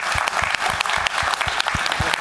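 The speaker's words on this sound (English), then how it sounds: "Give yourselves a round of applause for being here." An audience applauding at a conference panel, a sustained burst of dense, even clapping from a large crowd, loud and close throughout.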